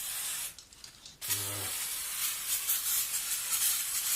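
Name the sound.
spraying Carby throttle body cleaner on engine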